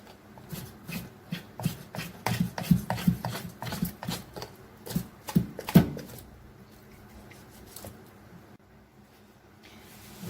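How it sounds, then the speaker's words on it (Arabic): Knife working flesh away from the bone of a sheep's head, giving a run of close scraping and rasping strokes with sharper catches midway, then easing off to quiet handling near the end. "انا بعزل اللحم اهو عن العظم"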